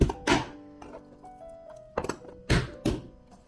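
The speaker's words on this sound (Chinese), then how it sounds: "另外3个虾仁拍扁。" A knife blade slaps down to flatten shrimp on a cutting board, giving a handful of dull, close thunks spaced irregularly with quiet pauses between them.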